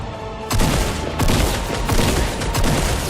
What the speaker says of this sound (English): Okay, someone's shooting at me.